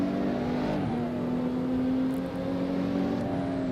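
A Lexus LFA with its V10 engine revs high in the Assetto Corsa racing game, a steady, sustained whining engine drone that holds a near-constant pitch, close and even, with no talking.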